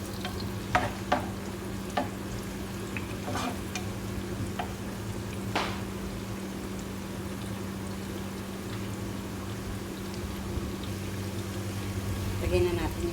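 Onion sautéing in a pan for Arabic rice soup, a steady low sizzle with occasional stirring scrapes and clinks over thirteen seconds, someone talking over the cooking.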